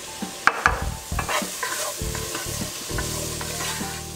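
Vegetables for butternut squash soup sizzle in a pot while a utensil scrapes and stirs, making a few clanks, then a steady hiss follows.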